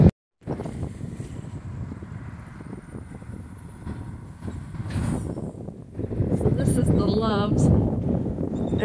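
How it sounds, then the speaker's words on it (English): Strong wind buffets the microphone in a steady low roar, growing heavier toward the end, with a person talking over it. "It's getting cool, really windy."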